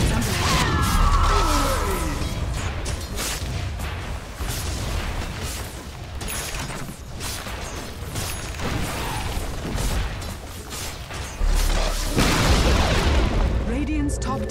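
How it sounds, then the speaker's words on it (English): In the video game Dota 2, the Radiant's top tower is destroyed amid a dense, continuous barrage of booming impacts, crashes and crackling pops from a busy battle. "Radiant's top tower has fallen."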